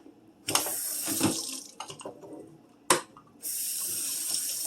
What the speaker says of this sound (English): So go ahead and rinse off the cutting board.